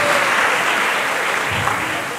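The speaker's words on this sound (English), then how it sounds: "Let's clap for TI Mass." An outdoor crowd at a regional aviation tourism event applauds a senior high school group, sustained dense clapping that tapers slightly toward the end.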